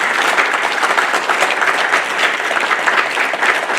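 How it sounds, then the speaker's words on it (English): Loud, sustained applause from family and friends at a Navy Nuclear Field A School graduation ceremony, dense clapping filling the hall evenly throughout with no voices on top. "Family and friends, please join me in a round of applause for the Navy's newest third-class petty officer."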